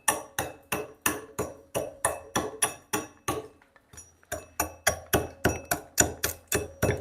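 An adze repeatedly strikes a wood stump, trimming off bark in steady, evenly spaced chopping blows, close and crisp, with a brief pause midway before the rhythmic strokes resume.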